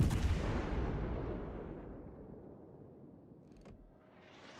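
Heavy shell fire from the enemy destroyer Thunder in a naval warfare game: a big booming blast up front that rolls off into a long fading rumble, then a brief sharp crack near the end.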